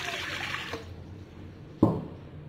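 Warm water poured into a mixing bowl in a kitchen, a steady splashing pour that stops, then a short splash near the end.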